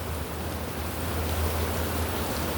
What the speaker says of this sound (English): There's something about rain.